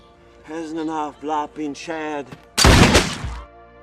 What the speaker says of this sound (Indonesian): Belum sempat Engelman membela diri, dia malah ditembak oleh Beringer dari belakang.